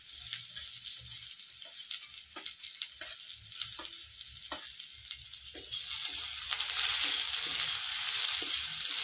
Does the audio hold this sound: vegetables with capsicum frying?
yes